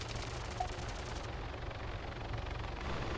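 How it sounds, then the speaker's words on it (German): Helicopter in the ARMA 3 video game drawing nearer, a low rhythmic rotor thump beneath a constant rumble, blended with scattered gunfire in a busy combat soundscape. "Der hört sich schon näher an, der Heli."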